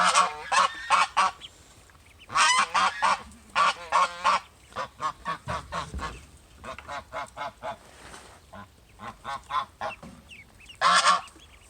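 Loud, close ducks quack and honk in rapid bursts, with brief pauses between the noisy flurries.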